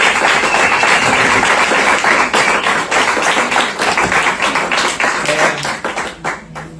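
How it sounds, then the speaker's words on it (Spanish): An audience at a literature book presentation breaks into applause for Sigrid: dense, steady clapping from a crowd that holds strong and then thins out near the end. "un fuerte aplauso para Sigrid"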